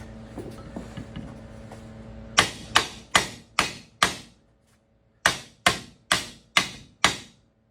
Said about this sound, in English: Always use your framing hammer when you do this, especially one that's checkered.